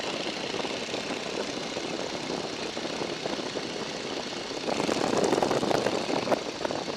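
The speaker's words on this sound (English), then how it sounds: "let's go ahead and level the airplane and bring the power back to 1750" The Boeing Stearman biplane's engine, with power brought back to 1750, gives a steady, dense drone heard from inside the open cockpit, with rushing wind noise that grows a little louder in the last seconds.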